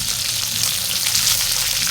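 Hot oil sizzles steadily in a pan for chicken do pyaza, a constant loud hiss with no breaks and no voices.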